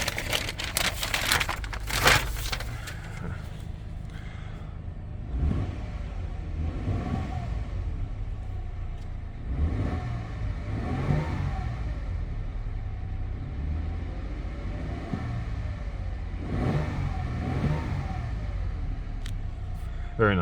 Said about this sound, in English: All right, just gonna cover a couple of revs.